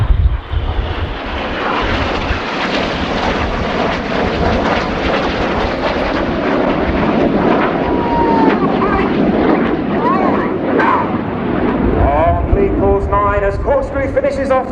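Red Arrows jets performing a flying display at an air show, a loud continuous roar of jet engines sweeping overhead throughout, with a commentator talking over it.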